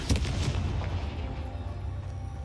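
A Confringo blasting spell in the Hogwarts Legacy video game goes off as a single heavy boom with a short burst up front, followed by a low rumbling decay that lingers to the end, loud and without any voices.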